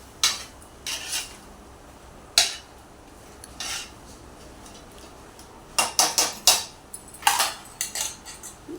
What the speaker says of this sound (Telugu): బాగా కలుపుకోవాలి మసాలా అంతా పట్టాలి దీనికి చికెన్కి